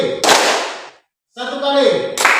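A classroom of students clapping together on command, two sharp group claps separated by a gap in which a voice calls out the instruction, then another clap at the end.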